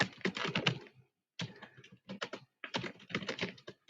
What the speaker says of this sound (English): the user is going to type out a message